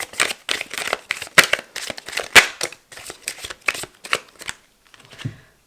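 Tarot cards being shuffled by hand, a quick series of crisp riffling flutters and soft slaps, close and fairly loud, ending in a few quieter taps.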